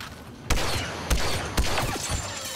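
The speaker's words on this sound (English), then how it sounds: "I never knew the stinger pistol was so good." Stinger pistol firing in a video game, three sharp shots spaced about half a second apart over a busy background of game noise.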